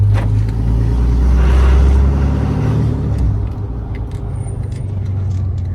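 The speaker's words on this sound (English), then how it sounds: "you had a heavy back pressure sound when the exhaust brake hit" A Ram 2500 6.7L diesel rumbles loudly with a deep, throbbing exhaust drone from heavy exhaust-brake back pressure that eases off slightly partway through, and no one talks.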